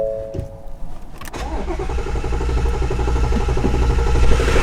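Nissan 350Z cold start: a brief starter whir, then the engine catches with a sharp bark and settles into a loud, rough, rising idle close to the microphone.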